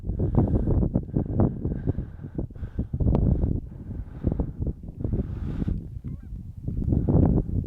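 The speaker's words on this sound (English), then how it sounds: "goose coming by." Several geese honk repeatedly while flying past at dawn in Boise, over strong wind buffeting the microphone, the calls fairly close and overlapping in irregular bursts.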